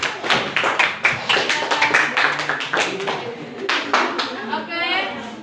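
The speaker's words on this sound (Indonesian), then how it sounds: "Oke, tepuk tangan untuk kelompok 3." Students in a classroom clap for a group of classmates, a close run of loud, rhythmic hand claps with a voice audible in between.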